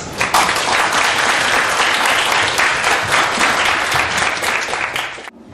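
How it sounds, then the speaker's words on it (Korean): An audience gives loud, sustained applause to welcome Korean politician Roh Hoe-chan to a lecture on Korean democracy and parliamentary reform. The clapping is dense and close, holding strong for over five seconds before stopping abruptly. "우리 노회찬 대표님을 큰 박수로 맞이했습니다."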